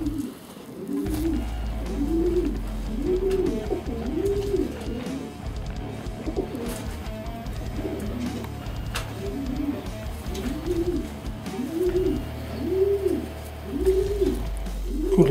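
Pigeons coo in a steady repeating rhythm, soft rolling calls one after another over a low constant background hum.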